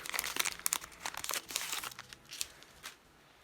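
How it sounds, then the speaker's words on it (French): A Pokémon card booster pack from a Detective Pikachu set is torn open by hand: close, crinkly plastic rustling and ripping in irregular bursts, with no voices. "je vais casser le booster"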